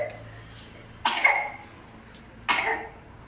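Two sharp coughs sound close and loud, about a second and a half apart, with a quiet room between them.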